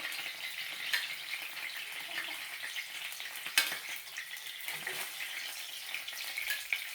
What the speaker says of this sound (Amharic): በዚህ ዘይት እንቁላሌን እሰራለሁ።